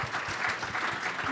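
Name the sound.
audience applause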